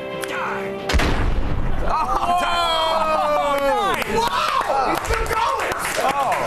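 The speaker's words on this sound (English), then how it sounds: "Let's chuck a little grenade at him." A grenade explodes in a video game, a sharp boom that gives way to loud, busy game sound with chaotic effects and shouting voices layered over it.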